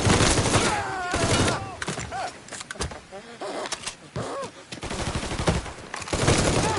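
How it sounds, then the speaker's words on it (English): Gunfire in the video game Mafia 3: rapid bursts and scattered sharp shots crackle loudly at close range, punctuated by shouting voices and brief pauses between volleys. "He's shooting!"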